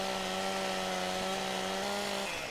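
A steel chainsaw cuts logs in the video game Farming Simulator 17, giving a steady, droning engine whine for about two seconds before it cuts off.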